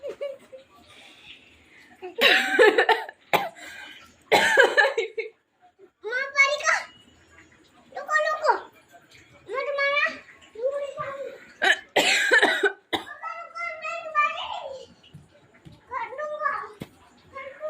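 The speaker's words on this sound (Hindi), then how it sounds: "मम्मी खांसी हो गई" A child coughs several times in short bursts, close up, with a voice chattering and laughing between the coughs.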